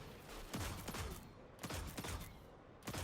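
Gunfire in the video game Destiny 2, quiet bursts of rapid shots in three clusters, each followed by short decaying echoes, heard alone.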